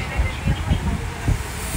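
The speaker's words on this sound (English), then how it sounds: "welcome aboard this Villains Courtesy Tram, taking you up to the Transportation and Ticket Center" Magic Kingdom Villains Courtesy Tram rolling toward the Transportation and Ticket Center, a steady low rumble and hiss of the moving vehicle with soft rhythmic thumps, heard close and alone.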